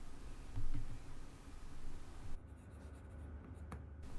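Stylus scratching across an iPad fitted with a Benks magnetic paper-like screen protector, a dry papery scraping in short strokes with small taps, close and fairly soft with no talking.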